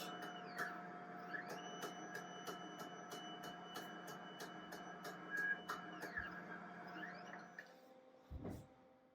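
A Roland BN20 printer-cutter runs alone nearby with a whirring carriage, regular ticking steps and sliding motor tones. A quiet clunk comes near the end.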